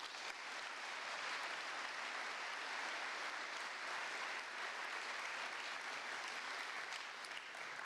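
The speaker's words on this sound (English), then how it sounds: "Please give our dignitaries a round of applause." Sustained applause from a ceremony audience honouring dignitaries, an even wash of many hands clapping at moderate distance for the whole stretch, with no talk over it.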